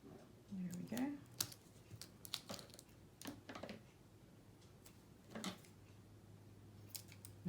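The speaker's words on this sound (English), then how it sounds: "I need to trim this down a smidge." Titanium non-stick scissors trimming card, several sharp snipping clicks in short bursts, close and fairly quiet, with a voice speaking softly in between.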